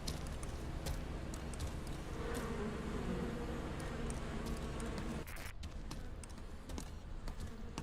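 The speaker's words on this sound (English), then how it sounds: "Dr. Peretz's bees again." Bees buzz in a steady, close drone inside the video game République Remastered, with a few light ticks and taps scattered over the hum.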